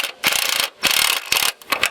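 A ratchet works a 10mm bolt on the front header panel of a 1997-2001 Jeep Cherokee XJ, giving quick close clicking bursts in short repeated strokes with brief pauses between.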